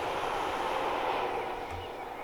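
A Class 411 train running in a train simulator game, a steady broad rumble of the moving train that stays loud and even, then eases slightly toward the end.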